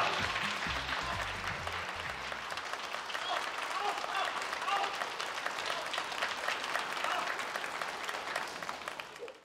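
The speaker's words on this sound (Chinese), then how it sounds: "您往台上一走啊，观众就报以热烈的掌声" Warm, sustained audience applause fills a crosstalk comedy show hall as performers walk on stage, dense clapping continuing loudly throughout with faint crowd murmur beneath.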